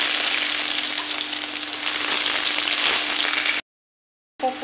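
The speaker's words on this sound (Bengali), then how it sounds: "জিরে আর 2টো শুকনো লঙ্কা দিয়ে দেব, কেটে রাখা পেঁয়াজ" Cumin seeds, two dried red chillies and chopped onion fry in a pan, a steady loud sizzle with a continuous electric hum underneath, cutting to silence before the frying briefly returns.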